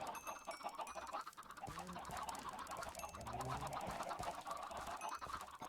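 Chickens in a hardcore vanilla Minecraft world give soft, scattered clucks over a steady low background bed, with a couple of clearer calls near the middle.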